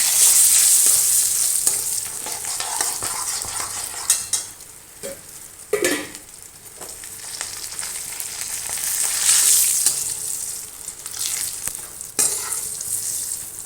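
Chana dal, dried red chilies and asafoetida fry in hot oil, giving a steady close sizzle with occasional spoon scrapes and stirring clatter against the pan.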